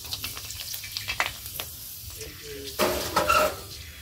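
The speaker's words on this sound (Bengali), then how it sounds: "এক্ষুনি ফুচকা ভাজা হয়ে যাবে" Fuchka puris frying in hot oil, a steady close sizzle and crackle with stirring and scraping, growing louder near the end.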